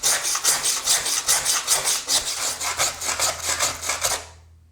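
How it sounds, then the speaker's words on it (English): A serrated grout saw scrapes grout from between tiles in quick, rhythmic rasping strokes, loud and close, about a dozen even passes before stopping abruptly. "The first tool I want to show you is called the Grout Saw, and it has a serrated edge on one side."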